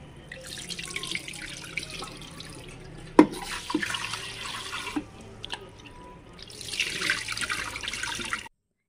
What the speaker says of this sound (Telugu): నేను ఇలా రైస్ని 2 సార్లు కడిగి పక్కన పెట్టుకుంటున్నాను.